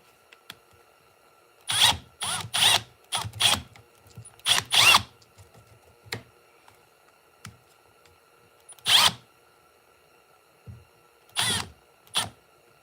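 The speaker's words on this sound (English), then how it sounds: "you can also turn the drill on, and as it spins with that tip," A power drill spins its tip through the pivot of a Kabar folding hunter knife to line up the new pin. It runs in short, sharp bursts, repeated several times with quiet gaps between them, and it is close and loud.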